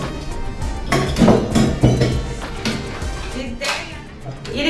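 Metal utensils from a newly bought matching set being handled, with repeated clinks and knocks of pots and vessels against each other, fairly close and loud, while a person talks.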